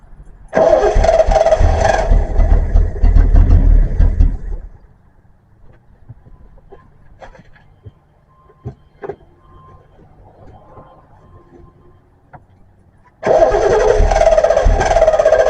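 Engine of a 1974 Triumph TR6 sports car that won't come off idle, suspected of having its timing off, cranking and running loudly and close for a few seconds, cutting out to quiet with small clicks, then roaring again.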